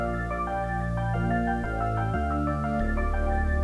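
An original Splice music sample plays on its own, a steady layered loop with sustained tones and shifting bass notes, moderately loud with no voices.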